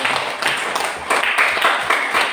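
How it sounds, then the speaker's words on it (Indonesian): Clapping from a class audience at a church-school Bible lesson in Merauke, a steady, dense patter of many hands at moderate loudness, lasting without a pause. "Tepuk tangan sekali lagi"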